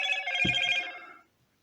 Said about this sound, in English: there you can hear notifications coming through.